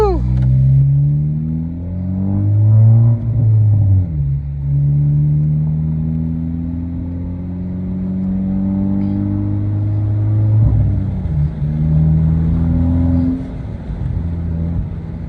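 Honda Civic Type R FL5 accelerating hard through repeated pulls, its engine note climbing in pitch, dropping at each gear change and climbing again, loud and close throughout.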